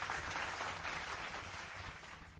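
A short burst of steady applause plays during a live news show, an even, dense clapping sound that holds for a couple of seconds with no voices over it.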